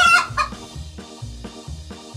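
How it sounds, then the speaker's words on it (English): A hen clucks repeatedly up close in a steady, rhythmic series of short, throaty pulses, with a sharper squawk at the start. "Gallina, hen, gallina"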